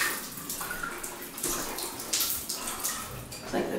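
Water drains from a bathtub with a close, steady rushing and gurgling wash that continues throughout, no voices over it.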